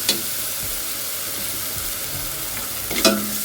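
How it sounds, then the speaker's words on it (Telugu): Ginger-garlic paste frying in a pan for a village-style mushroom curry hisses with a steady close sizzle and occasional stirring scrapes, plus a brief clink near the end. "అది వేగుతూ ఉంది."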